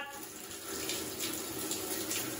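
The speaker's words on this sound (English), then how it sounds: "Let's see if the water runs." Water runs steadily from a tap on a temporary mains connection, a soft continuous splashing flow heard faintly and without a break.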